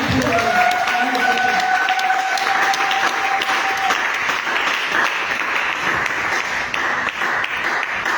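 A charismatic church congregation at a Catholic cathedral service claps together in sustained, dense applause that stays loud and steady throughout, with a held tone sounding briefly at the start.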